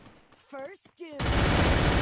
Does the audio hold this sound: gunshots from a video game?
yes